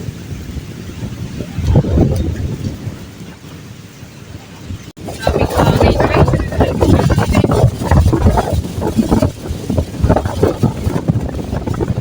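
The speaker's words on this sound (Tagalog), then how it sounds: "Sobrang lakas talaga sa hangin, guys." Strong, gusty wind on a boat roars and buffets a microphone, with loud rumbling bursts throughout and people talking over it.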